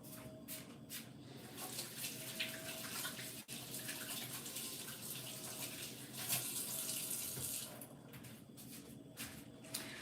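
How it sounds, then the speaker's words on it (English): Fingers rinsed under a running kitchen tap after handling shrimp, a steady broadband rush of water with small shifts and splashes as the hands move through the stream, close and continuous with no talking. "let me wash my fingers too."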